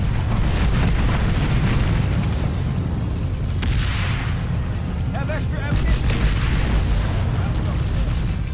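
Explosions and booming combat noise in the online shooter Planetside 2, a continuous loud rumble of blasts and gunfire with in-game voice lines over it.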